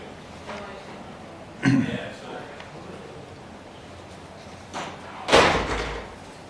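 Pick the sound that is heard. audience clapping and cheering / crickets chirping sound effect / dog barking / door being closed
door being closed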